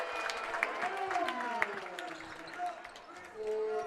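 Crowd at a Brookline vs. BC High boys' high school basketball game cheers loudly and steadily after a three-pointer, a sustained roar of voices and applause with sharp shoe squeaks and scattered shouts throughout.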